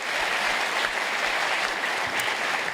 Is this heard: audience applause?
yes